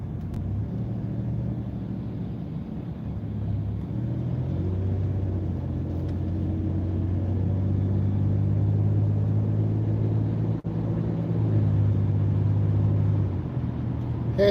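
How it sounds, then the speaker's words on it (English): A car interior hums with a low, steady engine and road rumble while driving in heavy city traffic, gear shifts bending the drone, loud and continuous with no talk. "We're driving some heavy city traffic"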